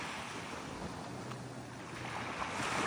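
Waves wash steadily onto a Canadian beach on a windy Sunday, a continuous broadband surf roar with gusting wind noise on the microphone and no talking.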